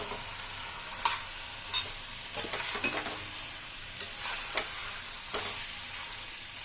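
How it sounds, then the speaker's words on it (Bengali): Chicken pieces stirred into a spice masala that has been fried until the oil separates, making a quiet steady sizzle broken by several sharp spoon scrapes and clicks against the pan. "মশলা কষা হয়ে গেছে, তেল ছেড়ে গেছে, মাংসটা দিয়ে দেবো"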